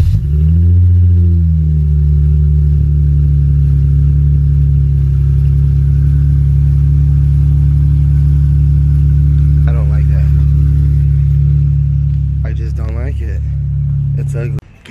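A Dodge Challenger SXT V6 with Magnaflow mufflers and its stock rear resonators still fitted gives a short rev and then holds a loud, deep, steady idle up close, with brief voices near the end.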